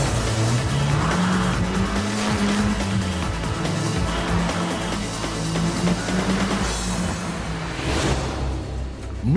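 A lightweight Westfield sports car launches hard from a standstill, its engine note climbing steeply through the gears with a brief tire squeal, loud and close, with no talk over it.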